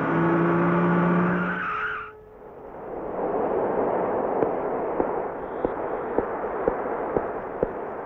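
A car in a Tamil film slows with a rising tire squeal and engine whine that cut off after about two seconds. A low rumble follows, broken by a run of sharp, evenly spaced clicks.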